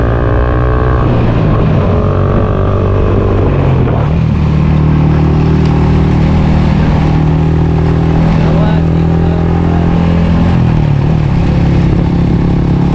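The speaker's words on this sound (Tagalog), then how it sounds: "Motor muna tayo, rides muna tayo." A motorcycle ridden along a rural road toward rice fields drones loudly and close, its engine pitch rising and falling with gear changes and throttle, while a rider talks over the noise.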